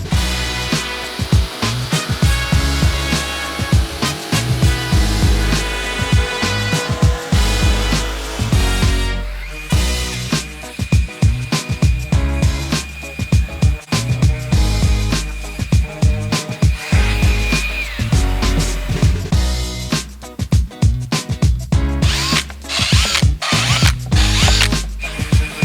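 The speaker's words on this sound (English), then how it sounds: "now you can hear the saw properly" Close, loud power-saw cutting while car audio mounting brackets are fitted in an Audi B9 A4 S-line, a continuous grinding whine with pitch shifts and brief pauses over about twenty-five seconds.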